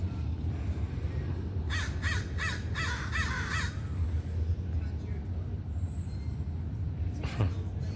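A crow caws four times in quick succession at a distance over a steady rumble of traffic outdoors, and later a single fainter call follows.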